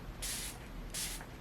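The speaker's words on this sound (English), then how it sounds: "I'm just gonna spray some on my face" Two short bursts of makeup setting spray mist onto a face, each a bright, close hiss lasting about a quarter second, separated by a brief pause.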